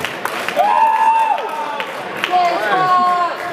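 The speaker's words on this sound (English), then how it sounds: "as the crowd goes wild" Crowd cheering and shouting at a college robot combat event as one robot is immobilized, broad continuous crowd noise with whoops, under a commentator's overlapping speech.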